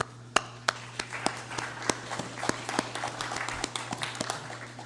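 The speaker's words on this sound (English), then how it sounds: "Let us please give him a round of applause." A round of applause during a legislative session, a scattered, modest clapping from a small group in a room, sharp individual claps over a steady electrical hum, with no voices.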